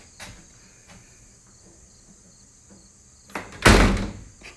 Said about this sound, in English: I'll get to hear the screen door again.